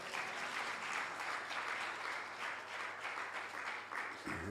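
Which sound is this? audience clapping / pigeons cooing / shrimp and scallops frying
audience clapping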